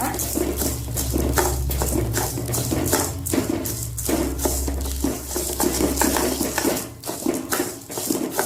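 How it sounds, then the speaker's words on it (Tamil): Lentils stirred and roasted in leftover oil in a pan for Andhra-style paruppu podi: continuous dry scraping and rattling of the lentils against the metal as they are tossed, with a steady low hum underneath. "எல்லாத்தையும் போட்டு வறுத்துக்கோங்க நல்லா"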